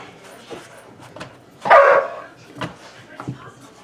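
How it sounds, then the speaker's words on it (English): A dog barks once, loud and close, in a workshop while a McCulloch MAC 3200 chainsaw is being repaired, with a few faint yips and scattered handling noises before and after. "Crazy dog."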